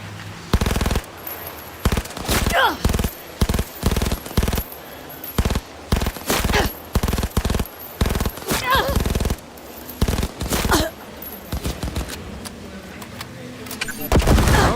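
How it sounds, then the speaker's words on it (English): A submachine gun firing in Cyberpunk 2077, loud repeated bursts of rapid shots broken by short pauses, with game effects and occasional talk between the volleys. "I guess we need to get the submachine gun out for this."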